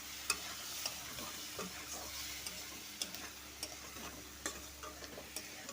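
Okra and shrimp frying with turmeric and chili powder, a low quiet sizzle broken by sharp, regular clicks and scrapes of a spatula against the pan, close and unhurried, no speech.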